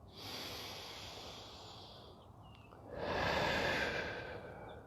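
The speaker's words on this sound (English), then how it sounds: "We're going to take some deep breaths. We're in through the nose and out through the mouth." Slow deep breathing during a guided relaxation exercise: a long hissy exhale, a pause, then a second louder airy breath, close and alone with no talking.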